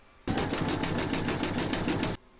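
Sewing machine running a steady zigzag stitch across a join on a fabric doll, a continuous rapid mechanical whir of about two seconds, close and clear with no talk.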